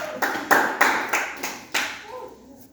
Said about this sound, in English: Give Michael a clap